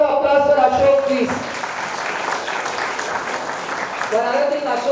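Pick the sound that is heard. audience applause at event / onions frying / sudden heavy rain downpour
audience applause at event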